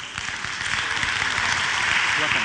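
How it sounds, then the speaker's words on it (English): Round of applause from a conference keynote audience, moderate clapping that builds and holds steady as a continuous patter from the room. "Please give him a round of applause."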